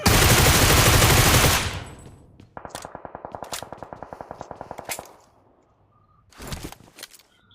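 Automatic gunfire in the mobile battle royale game BGMI: a loud burst opens, then a rapid, even rattle of about twenty shots runs for over two seconds, followed by a few scattered, more distant shots.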